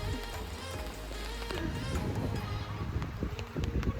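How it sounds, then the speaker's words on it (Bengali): Soft, steady rain falls outdoors at a hillside retreat near Darjeeling, a faint continuous patter with a slight rise in intensity partway through. "ঠিক নামার সময় বৃষ্টিটা হলো।"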